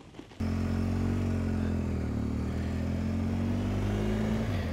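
A motorcycle engine fires up on an Irish coastal road before a sunset ride, settling into a loud, steady idle with a low rumble that holds close and constant after the start.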